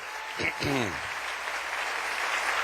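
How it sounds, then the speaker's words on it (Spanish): A congregation at a church service breaks into applause right after a voice on the microphone, the clapping carrying as a steady roomy patter that fills the rest of the moment. "Denle un aplauso al Rey bendito."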